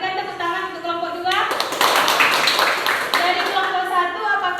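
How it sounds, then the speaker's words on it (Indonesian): A class claps for a presenting group, a short burst of scattered applause in the middle with speech before and after it. "Berikan tepuk tangan untuk kelompok 2."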